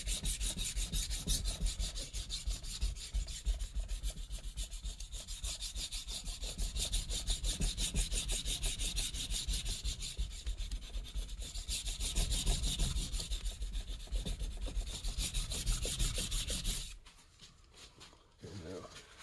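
A knife blade scrubs back and forth under firm pressure on a sharpening stone to thin it, a loud, rapid rasping that continues steadily before stopping near the end, followed by quieter handling.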